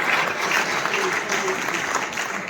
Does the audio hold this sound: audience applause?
yes